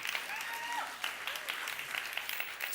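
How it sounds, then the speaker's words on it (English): An audience claps for two speakers at a talk, a steady patter of applause with a few brief voices and cheers mixed in, moderately close and fairly quiet throughout. "Round of applause for them."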